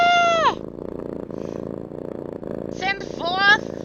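Animated cat meows ring out at the start and again near the end of a stream raid alert, with a steady low purring rumble underneath and game music in the background.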